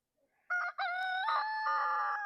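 Rooster crowing on a farm where chickens scratch up ground after a fence move, one loud, close, drawn-out crow after a brief clucking start, heard alone.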